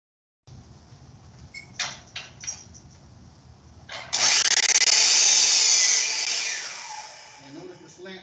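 A power saw cuts a compound miter in wood during a construction class, the blade's loud whine and cut lasting about three seconds, after some clicks and handling noises and under a speaker's voice.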